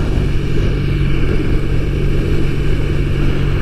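Triumph Thruxton, a vintage-style motorcycle, rumbles at a steady mid-pitched engine note while riding through the suburbs, close and continuous with wind rush and no speech.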